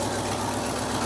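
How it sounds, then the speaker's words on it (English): A vintage Ford Econoline camper van engine idles with a steady, rough mechanical drone and low rhythmic pulsing, heard close up with nobody speaking over it. "it's The idling."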